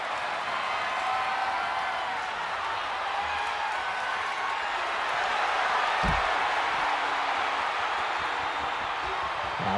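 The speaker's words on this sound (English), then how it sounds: "And this crowd is absolutely fired up." A large arena crowd at a wrestling event roars with sustained cheering and applause, a dense, steady wall of noise that barely rises or falls, with a dull thump around the middle.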